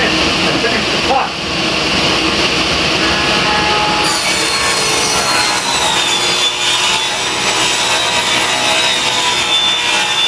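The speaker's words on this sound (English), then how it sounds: "I shut the saw off, I stay clear of that blade, it's still spinning." A power saw cuts through wood for a crate, a loud steady whine and rasp running throughout, with a voice talking over it.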